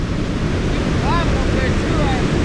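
A waterfall at Fall Creek Falls roars as a dense, loud, continuous wash of water noise, with wind buffeting the microphone close by.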